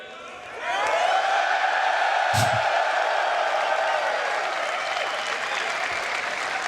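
A large livestream audience at a Star Citizen gaming event bursts into sustained applause and cheering that swells quickly and holds loud and dense, with a brief shout near the start.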